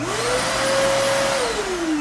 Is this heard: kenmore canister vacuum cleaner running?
yes